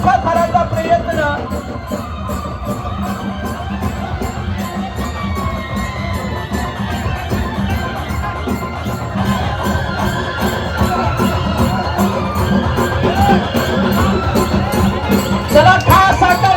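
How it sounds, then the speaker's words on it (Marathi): A loud, dense crowd roars and cheers continuously at a Dahi Handi festival while a four-tier human pyramid attempt goes up, with shouts rising near the end. "चला गवलनीसाठी या जोरदार टाळ्या होऊ द्या."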